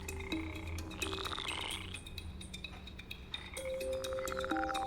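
Rare Ecuadorian frogs croak and chirp in a research center enclosure, a chorus of repeated pulsed calls and tonal whistles, some sharp and glassy, overlapping close by with no talk.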